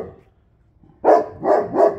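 A big guard dog, Cane Corso or Central Asian Shepherd, lets out three loud, close barks in quick succession after a brief quiet stretch, with faint movement sounds before them.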